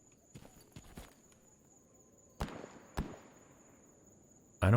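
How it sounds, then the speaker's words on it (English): Distant gunshots in the video game Stalker Gamma: a handful of sharp, faint cracks spread irregularly over a few seconds, echoing over a quiet ambient bed, followed by a louder tonal burst at the end. "I'm hearing gunshots, and I don't know that the gunshots are at me. They sound distant"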